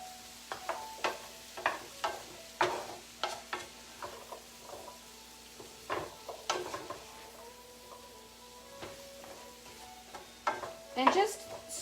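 A spoon stirring parsnips and carrots in a pot of soup, giving repeated scraping, knocking strokes over a soft steady sizzle, close and moderately loud with no talk.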